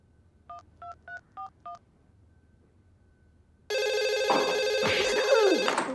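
Five short telephone keypad tones beep in a quick sequence, then after a pause a loud ringing tone begins and continues.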